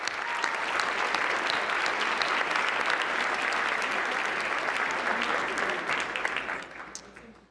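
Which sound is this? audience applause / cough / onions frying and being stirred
audience applause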